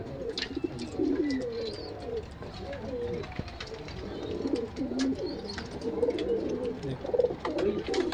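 Kamagar pigeons coo again and again in a large loft among other pigeon breeds, a steady chorus of soft, low, rolling calls with occasional higher chirps over a light background murmur.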